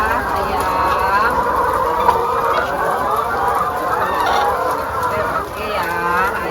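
Many chickens cluck and squawk close by during an egg harvest on a poultry farm, a busy, overlapping chorus with a few louder cries rising above the flock.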